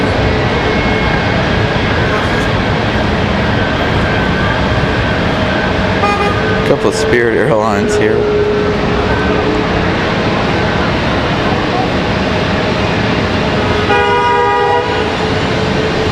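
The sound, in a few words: car horns honking in traffic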